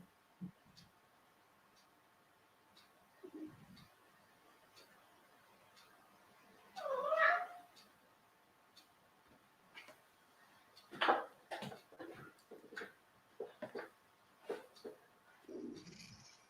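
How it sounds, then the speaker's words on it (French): A domestic cat meows at a door: a few short, faint meows spread apart in a quiet room, with scattered small knocks and rustles between them. "J'ouvre la porte à mon petit chat qui me sort."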